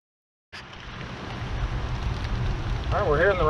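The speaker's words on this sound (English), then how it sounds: "we're here in the rain" Steady rain falls in a forest near a stream, a dense close hiss that starts abruptly and holds throughout, with a voice speaking beneath it toward the end.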